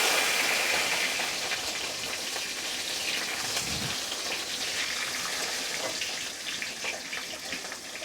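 Chopped tomatoes hit a frying pan of hot oil with chillies, cinnamon, cloves and cardamom, setting off a loud, dense, continuous sizzle and crackle that holds steady throughout.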